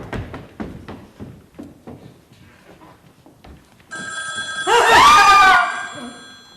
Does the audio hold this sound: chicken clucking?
no